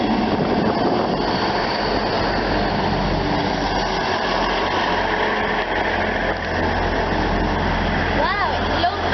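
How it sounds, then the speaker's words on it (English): A long train rolls steadily through Honiton station in old livery, a continuous loud rumble with deep low drone and rail noise throughout, a voice speaking over it, and a brief squeal near the end. "Wow, it's a long train."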